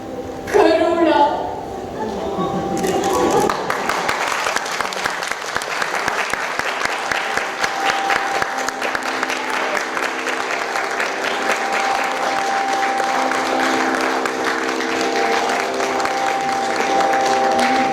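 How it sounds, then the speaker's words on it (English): Theatre audience at Chandler Theatre applauding after a mono acting performance at a festival, brief voiced sounds at the start giving way to long, sustained clapping from many hands, steady and fairly loud throughout. "deserves one more round of applause"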